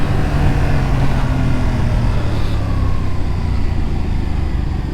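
A 2021 Yamaha MT-07 twin-cylinder motorcycle on a low-speed go-kart track ride lets out a loud, steady engine drone under heavy wind rush, with no clear revving and no voices.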